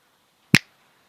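A single crisp finger snap rings out close and alone against near silence.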